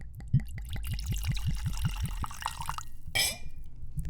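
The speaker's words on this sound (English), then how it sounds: "That is the sound of liquor being poured into glasses." Liquor poured from a bottle into glasses gives about a dozen quick, rhythmic close-up glugs that settle into a trickle and end with a brief splash, with no talking.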